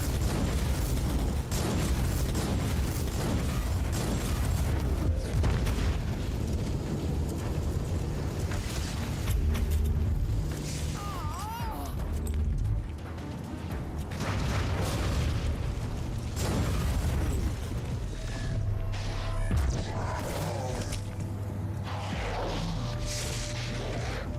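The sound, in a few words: barrels exploding in video game Warhammer 40K: Inquisitor - Martyr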